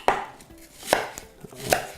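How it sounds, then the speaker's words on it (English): A knife cutting the core out of a quartered apple on a chopping board, three sharp, close cuts spaced about a second apart with quiet pauses between. "I'll just cut the core out"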